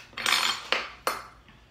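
A spoon clinks against a dish while someone eats applesauce, giving a few short, bright metallic taps up close, the first smeared and longer and the later ones sharp and isolated.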